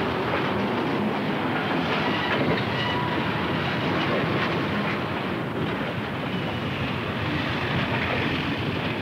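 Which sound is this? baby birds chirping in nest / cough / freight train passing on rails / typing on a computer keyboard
freight train passing on rails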